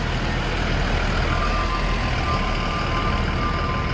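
A small truck idles in a tight city alleyway, its steady reversing beep tone sounding over a broad, continuous engine rumble at moderate distance.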